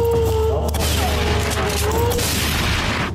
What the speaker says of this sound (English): she's there with a 12-gauge shotgun.